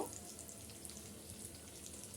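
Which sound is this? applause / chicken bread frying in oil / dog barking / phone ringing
chicken bread frying in oil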